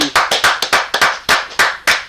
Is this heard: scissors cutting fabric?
no